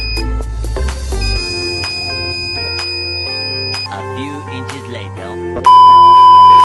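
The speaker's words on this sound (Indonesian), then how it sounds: "robot akan langsung berhenti dan buzzer akan menyala sebagai alarm sampai api atau panas tidak lagi terdeteksi" Steady electronic beeping tones from the buzzer alarm of a heat- and fire-detecting robot project, fairly loud and continuous, with a louder tone toward the end.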